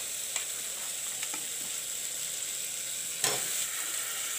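Potatoes frying in browned masala for a channa and potato curry, a steady broad sizzle with a few sharp crackles and one louder stir-like burst near the end.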